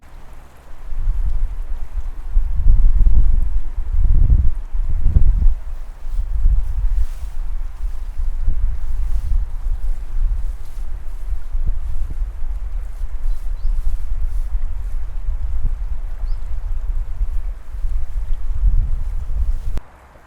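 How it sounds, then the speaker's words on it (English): Beside the river Orge with a motorway behind, a steady low roar of distant traffic and moving water fills the scene, swelling in a few heavier gusts early on before settling into an even rumble. "The next place is a quite famous river, the Orge, with the motorway behind me."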